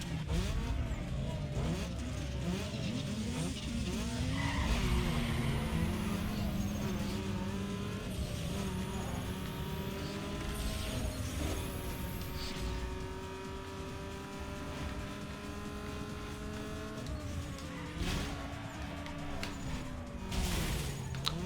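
Engines rev and roar continuously in a Need For Speed Underground 2 drag race featuring an RX-8 and Focus cars, with rising gear-shift whines layered over a dense, steady game soundtrack.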